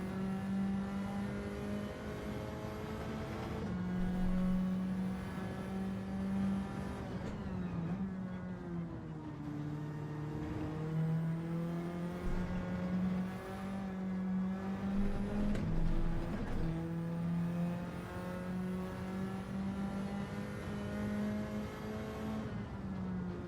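Race car engine in a racing sim lap, a steady loud drone rising and falling in pitch as it revs up through gears and drops back, continuous throughout with no talk.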